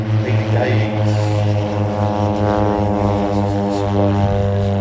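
Two Grob propeller aircraft taxi out for a display at an air festival, their engines a steady, loud droning hum, with a commentator's voice heard over them.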